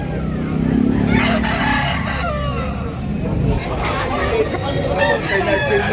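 Roosters crow and hens cluck at a Sunday gamefowl market in Tabunok, Talisay, Cebu, several birds calling close by over the general chatter of the crowd, with people talking nearby.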